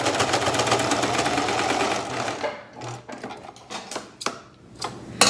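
Old sewing machine stitching thick mask fabric, a fast, steady mechanical whir for two seconds, then slowing into halting bursts and single clicks as the needle is pushed through by hand, close and loud.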